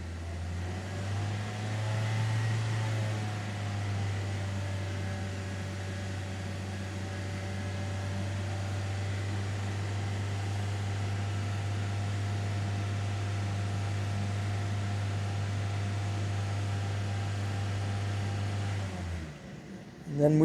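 A 2006 Mazda 3 with the 2.3 engine runs at a steady raised speed, a constant low hum with faint whine, holding evenly for about twenty seconds before dropping off at the end.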